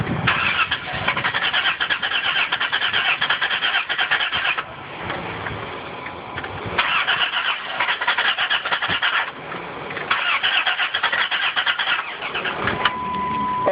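A car engine cranks repeatedly without catching: three long bursts of steady starter whirring, separated by short pauses, close and alone.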